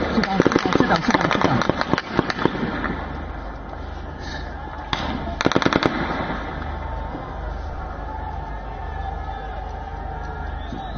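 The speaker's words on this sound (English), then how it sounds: "that's some aerial firing that is being done, constantly being done on the protesters and by the protesters" Sharp cracks of aerial gunfire aimed at and by protesters at D Chowk in Islamabad, several rapid bursts early on and again midway, heard amid crowd noise and outdoor din with voices talking.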